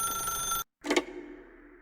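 A telephone rings in The Stanley Parable, a bright electronic ring that cuts off abruptly, then a short muffled clunk follows as the receiver is lifted.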